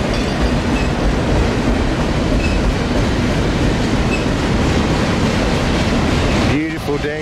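A Norfolk Southern intermodal freight train rumbles past under a bridge on the Pittsburgh line at Cassandra, Pennsylvania, a loud, steady roar of wagons with rhythmic wheel clatter that holds throughout and eases slightly right at the end.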